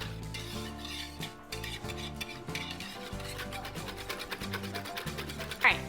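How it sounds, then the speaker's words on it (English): A hand whisk rhythmically scrapes and taps against a bowl while mixing ingredients, a steady brisk stirring pattern that runs throughout under background music. "I like to whisk this part up to get it nice and incorporated"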